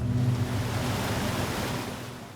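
A jungle river flows with a steady, broad rush of water, loud and continuous, with a faint low hum underneath and no one speaking.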